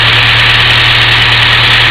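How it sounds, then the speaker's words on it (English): A car engine idling steadily with a low mechanical hum and constant vibration; the vacuum line is unplugged from the VSB, making the idle speed rise, though the change is subtle over the short stretch. "unplug from the VSB where you can hear it idles up"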